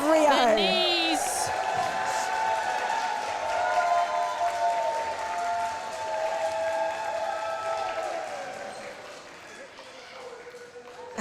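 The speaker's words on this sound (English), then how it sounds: "a huge ovation there from the Eve crowd" A wrestling crowd at an EVE women's wrestling show gives a sustained ovation, broad applause and cheering rolling on at a steady level, with commentators' voices running over it and a brief whistle near the start.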